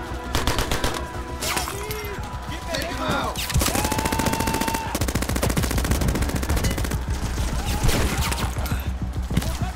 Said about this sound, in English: Someone take out the machine gun!